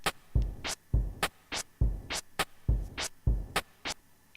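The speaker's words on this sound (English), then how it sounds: "I'm going to use this sound from A Link to the Past, of just Link hitting with the sword," Link's sword slashes from the SNES game A Link to the Past, a rapid run of about eight sharp swishing hits in a steady rhythm, each a quick airy swipe, clear and alone.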